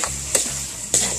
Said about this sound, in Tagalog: Halo ilan para ma-mix.